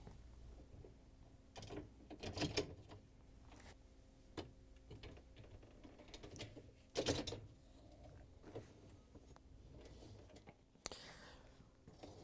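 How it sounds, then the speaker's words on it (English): Upper dishrack wheels on a GE dishwasher are lined up and pushed along the rails, giving a few short, quiet plastic rattles and rolling clatters separated by near silence. "line up the wheels on the rails and push them in."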